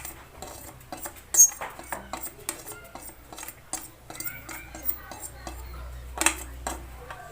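A spoon stirs gram flour batter with semolina in a bowl, making a steady run of quick clinks and scrapes against the sides, close and moderately loud.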